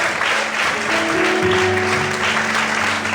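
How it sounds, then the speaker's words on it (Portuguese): Loud, continuous clapping from a worshipping church congregation, dense and even, with held keyboard or organ chords sounding beneath it. "Será que você pode aplaudir o Senhor?"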